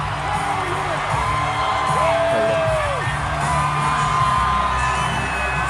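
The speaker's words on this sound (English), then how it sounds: "Crowd going nuts" A crowd cheers and whoops for Governor Ron DeSantis, loud sustained yells and rising whoops from many voices close by, with a couple of bangs in the mix.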